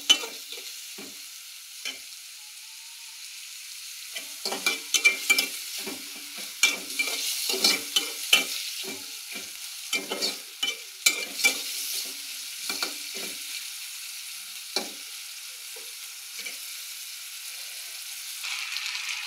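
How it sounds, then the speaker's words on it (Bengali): Loitta fish cooks with onion and chilli in a pan, a soft, close sizzle broken by repeated sharp clinks and scrapes of a spatula stirring, no voices. "এখানে আমি লইট্টা মাছটা রান্না করে ফেলবো।"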